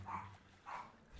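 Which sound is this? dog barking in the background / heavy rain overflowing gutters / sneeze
dog barking in the background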